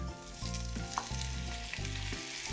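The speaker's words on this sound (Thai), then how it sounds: "ผัดกระเทียมพอให้มีกลิ่นหอมนะคะ ตามด้วยกุ้งเลยค่ะ" Halved frozen prawns hit a pan of fragrant fried garlic for a stir-fry, giving a steady hissing sizzle with a few stirring knocks over a low tonal background hum.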